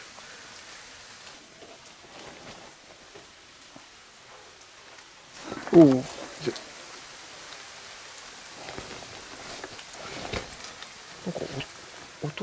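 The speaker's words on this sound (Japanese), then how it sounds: "今日は雨が降ってるので" Steady rain falls outdoors in a wet Japanese setting, a constant hiss of drops on surfaces with a louder rustling burst near the middle and a brief male exclamation.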